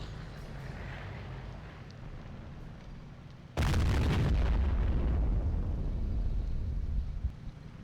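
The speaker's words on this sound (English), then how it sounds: "you can always soften the enemy with rocket barrage" Sudden loud rocket barrage impacts in Company of Heroes, a sharp blast followed by several seconds of rumbling, crackling explosions over a quieter battlefield background.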